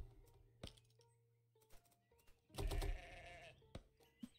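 Sheep bleating in the farming video game Orrstead, with a louder bleat in the middle amid scattered soft game clicks and tones, quiet overall and without speech.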